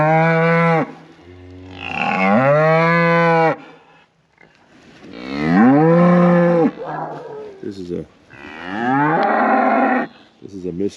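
Cattle in a pasture mooing repeatedly, several loud, close, drawn-out calls overlapping one after another with short pauses between, waiting to be fed hay.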